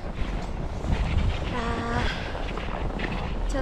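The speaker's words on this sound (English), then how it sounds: "Too much wind and too much snow there." Strong wind buffets the microphone at a snowy outdoor Dew Tour 2021 contest, a steady low roar with gusty surges throughout, and a brief voice-like tone rises partway through.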